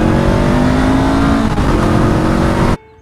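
A Honda SCL500 Scrambler motorcycle rides past on a sunny road, its engine drone loud and steady with a rising pitch under acceleration, then cutting off abruptly near the end.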